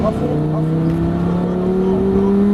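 A Lamborghini Gallardo accelerates hard on a race track during a driving course, its engine note climbing steadily in pitch, loud and close throughout.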